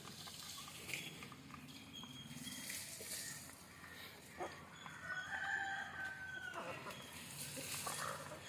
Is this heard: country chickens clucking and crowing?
yes